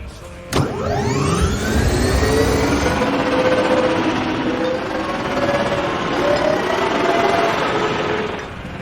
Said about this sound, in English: There came the satisfying sound of swoop bike engines engaging, then fading into the distance.